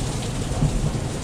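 A severe thunderstorm on May 1st, 2021 pours heavy rain in a loud, dense hiss, with deep thunder rumbling continuously beneath it and no voices.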